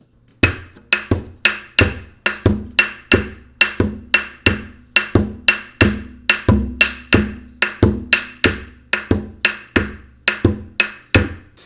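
Djembe played with both hands in an afrobeat rhythm, a steady stream of sharp slaps and tones over deeper bass strokes, close and crisp, repeating evenly throughout with no talking.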